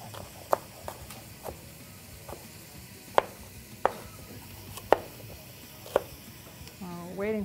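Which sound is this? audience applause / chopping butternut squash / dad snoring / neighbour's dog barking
chopping butternut squash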